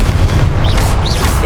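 A Confringo fire-blast spell from the Hogwarts Legacy video game, a loud booming burst set against dense, continuous game sound with swooshing magical effects over roughly a second and a half.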